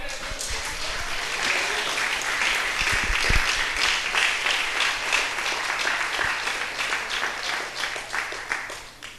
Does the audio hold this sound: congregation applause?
yes